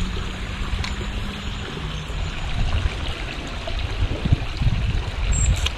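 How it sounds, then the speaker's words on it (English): Water spills steadily from a garden pond's outlet pipe back into the pond, a continuous close trickle and wash with no voices. "it looks like it's flowing through the pipe and coming out this end and then flowing back"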